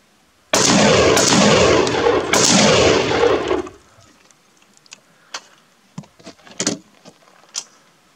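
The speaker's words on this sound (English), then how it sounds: "Firing." A loud, close burst of rapid gunfire rattles for about three seconds, then gives way to scattered quieter clicks and metallic clatter.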